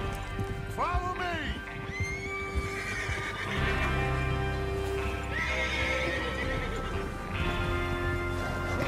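Galloping horses in Red Dead Redemption 2, setting out on a train robbery mission, thud along in steady hoofbeats while several loud neighs and whinnies rise above them, with a voice heard over the mix.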